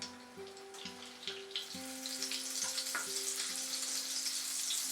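White oil and butter melt and sizzle on a hot tawa, a steady crackling fry that grows a little louder, with intermittent tonal clinks from a utensil.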